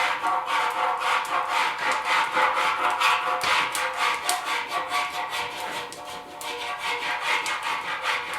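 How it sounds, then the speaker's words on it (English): A hand file rasps over body filler on a dented 1974 Yamaha RS 100 motorcycle tank, quick rhythmic back-and-forth strokes close by, evenly repeated with brief pauses. "Let's get her close with the file"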